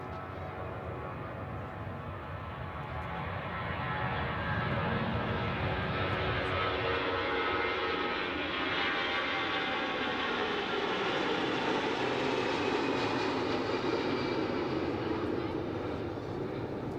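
An airliner departing Zurich Airport, its jet engines a sustained roar that swells after a few seconds and stays loud as it climbs away, heard from an observation deck with faint voices underneath.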